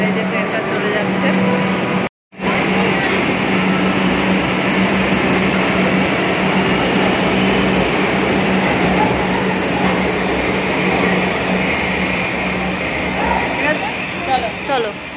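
A metro train departs from an underground station beneath a river, its steady rumble and rolling wheel noise filling the space, with a brief dropout early on and people talking over it.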